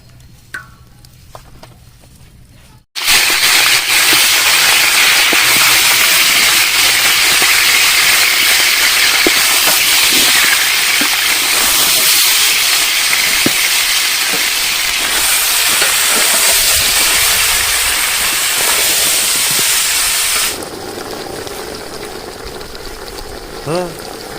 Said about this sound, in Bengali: আমরা মাংসটা আগে ভাজিয়ে নেব।